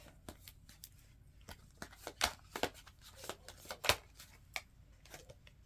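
Tarot cards are shuffled by hand in a quiet room, a series of close, crisp riffling snaps and soft slides arriving in irregular bursts, with a few louder flicks standing out.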